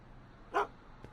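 A single short dog bark from a video game scene, a brief clear burst standing alone against a quiet background, followed by a faint second sound.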